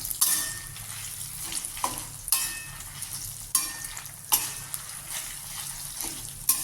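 Small-cut ginger fries in a pan for chutney, giving a hissing sizzle with sharp scraping and clinking strokes of a spoon against the pan every second or so, close and clear, with no speech.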